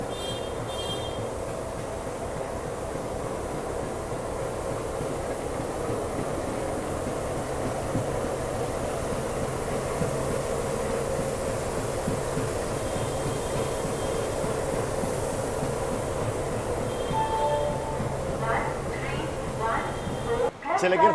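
ALCO locomotive shunter at a busy railway station, Sialdah, a steady low diesel rumble and rail noise running throughout with faint squeals near the end, talk over it.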